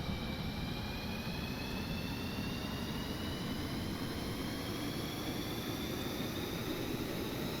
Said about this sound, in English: Clear for takeoff. All right, here we go.